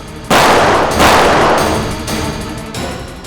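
Heavy gunfire in a police shootout on a highway, several loud, sharp reports with long echoing tails following one another, the first two strongest and the rest decaying into a reverberant roar.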